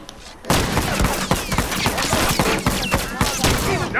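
Rapid rifle gunfire from a frontier rifle in The Last of Us Remastered, a dense burst of loud overlapping shots cracking in quick succession after a brief quiet start.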